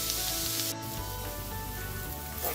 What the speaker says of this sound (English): So once this is well sauteed, we're looking for a light golden brown